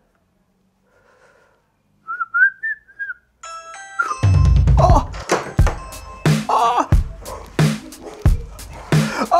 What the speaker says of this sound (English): ring the bell now, ring the bell, ring the bell.